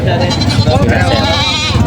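Goats bleating repeatedly at a busy livestock market in Padre Garcia, Batangas, with native goats for sale, their calls mixed under steady nearby talk and crowd noise.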